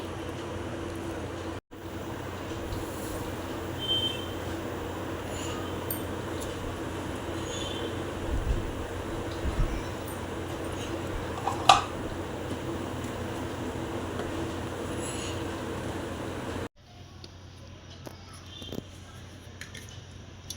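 A mixer grinder grinds one and a half cups of fine semolina for a mango cake, giving a steady, loud whirring drone that runs unbroken, then stops sharply, leaving quieter room sound.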